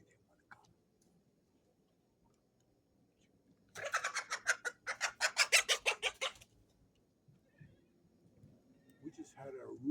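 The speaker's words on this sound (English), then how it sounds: "We just had a rooster assault a chick." Chickens in a yard erupt into a burst of rapid, loud squawking and flapping as a rooster attacks a chick, lasting a few seconds before settling into softer clucks, with a voice speaking faintly nearby.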